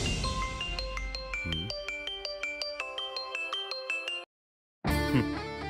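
A bright melodic phone ringtone loops its electronic tune for about four seconds, breaks off into a brief silence, then starts again loudly, with no voices in a Tamil TV serial scene.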